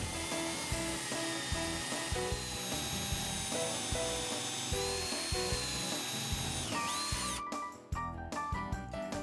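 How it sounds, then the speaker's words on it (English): A drill boring a hole around a broken screw in a ceiling, guided by a scrap, whirs and grinds with a steady mechanical hum, pausing briefly before a sharper, higher whine near the end; no talking. "using the scrap as a drill guide, bore a hole around the screw shaft"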